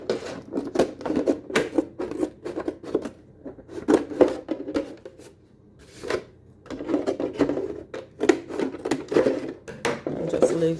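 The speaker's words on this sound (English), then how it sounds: "Cut from the other side to finish that up." Scissors cut around a plastic jug for winter sowing in a zone 8a backyard garden, a run of repeated crisp snips and crunches, close and steady, with a brief pause midway.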